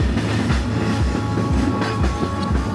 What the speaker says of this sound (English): the rumbling and rocking of the train as it rolled down the meter gauge tracks